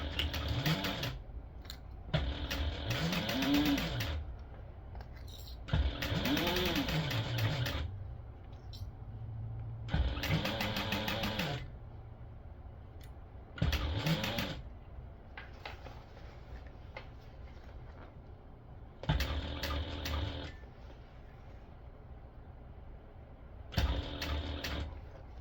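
A sewing machine stitches binding onto a clear stadium bag in repeated loud bursts of rapid mechanical whirring, separated by short pauses and quiet handling sounds.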